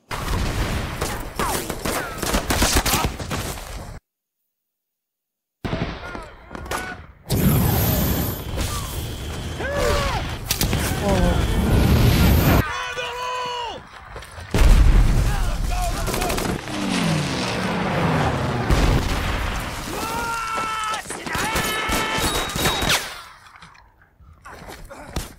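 Battle scene from the TV series The Pacific, Iwo Jima episode: bursts of machine gun fire and scattered gunshots crackle amid shouting voices and loud mechanical clatter, with a short silent break early on.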